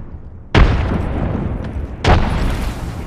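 Two frag grenades exploding in the battle royale video game Apex Legends, each a loud close boom with a long rumbling tail, the second about a second and a half after the first.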